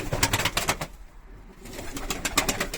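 Pigeons in a loft coo in soft repeated pulses, close and moderately loud, with a brief quieter gap in the middle.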